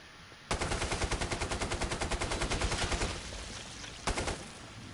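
AK-12 assault rifle fired in the video game Killing Floor 2, with a long, rapid burst of close, loud automatic shots lasting about three seconds, then a short pause and a second brief burst.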